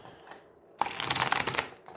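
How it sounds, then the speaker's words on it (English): A deck of tarot cards gets one quick shuffle, a brief close riffle of flapping and clicking card edges lasting under a second, quiet and without any talking. "And I'll do one more shuffle."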